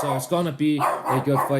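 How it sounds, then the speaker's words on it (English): A dog barks in short bursts, tangled up with someone talking in the same moment, both close and loud. "sorry about my dog"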